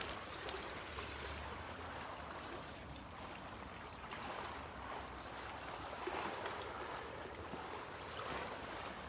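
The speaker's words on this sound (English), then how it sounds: "Interesting how the water is making so much noise right now here." Water rushes steadily nearby, a constant hissing flow with faint splashes and no voices.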